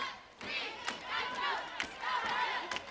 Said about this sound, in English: you can hear the crowd say, please, Nitro, don't hurt him.